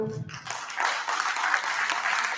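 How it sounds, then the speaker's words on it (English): A crowd at a tech talent league event in Pune breaks into applause for the camera crew, the clapping rising quickly after a brief voice and staying dense and steady throughout. "Can I have a round of applause for the camera crew?"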